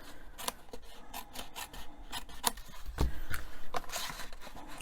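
Cardstock being cut down to size for a Stampin' Up! gift box, heard up close as a run of short, dry snips and rasping scrapes with brief pauses between cuts.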